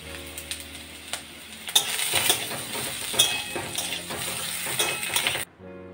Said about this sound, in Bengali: গাজরটা হালকা করে ভাজা হয়ে গেছে, এই অবস্থায় আমি ক্যাপসিকামগুলো দিয়ে দিলাম।